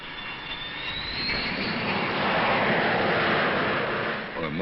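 A jet aircraft engine roars steadily, swelling to a peak in the middle and easing off near the end, with a rising whine over a broad rushing noise.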